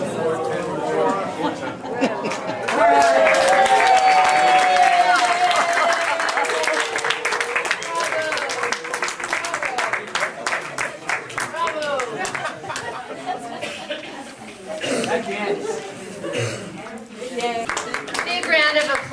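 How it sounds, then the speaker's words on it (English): A crowd at a 30th anniversary party breaks into clapping and cheering amid lively chatter and laughter, the clapping loudest early on and then continuing under busy voices. "Big round of applause."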